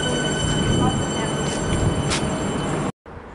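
Melbourne suburban train passing through Laverton station, a steady loud rumble of wheels and carriages with rail squeal, cut off abruptly near the end.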